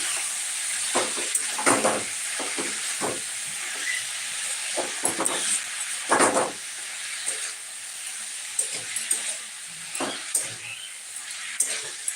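Potatoes seasoned with salt and turmeric being stirred in a frying pan, a constant loud sizzle and hiss overlaid with irregular scraping strokes of the spatula.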